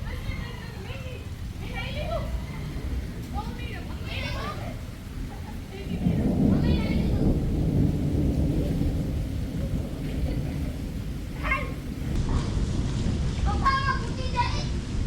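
Heavy rain pours over a farm, with a low rolling rumble of thunder swelling midway, while children and adults talk and call out nearby throughout.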